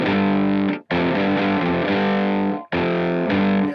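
Distorted electric guitar power chords played through a Boss PS6 pitch shifter pedal, loud sustained harmonic-rich chords in three strummed bursts with brief gaps, no voices.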